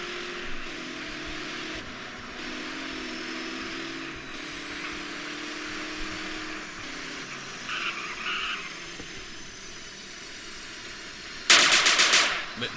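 A short burst of rapid automatic gunfire crackles out near the end in Grand Theft Auto: San Andreas, loud and sudden after a long stretch of quiet ambient game sound and engine hum.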